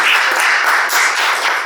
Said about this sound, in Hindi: आप सभी अपने लिए तालियां बजा